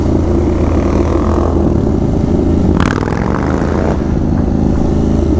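Motorcycle stuck in gear, its engine droning loud and close with a steady low rumble and a brief higher rev swell partway through.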